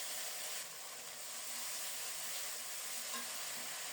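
Mustard, poppy seed and green chili paste frying in hot oil for a tempering, giving a steady, even sizzle and hiss that holds at moderate level throughout with no talking.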